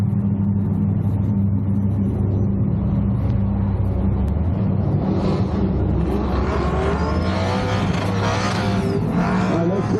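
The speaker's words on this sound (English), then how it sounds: "Next man doing the burnout" A car doing a burnout across the sideline at Talladega, heavy engine roar and tire rumble building steadily over ten seconds, loud and continuous, with a faint announcer voice under the noise.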